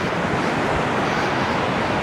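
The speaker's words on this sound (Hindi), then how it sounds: "ये देखिए जो हमारे लेफ्ट में नदी आ रही है, इसका नाम है बुदगल नदी।" The Budhil river rushes beside the Manimahesh Kailash trek in the Himalayas, a dense, continuous roar of flowing water with some wind buffeting the microphone, loud and unbroken with no talking.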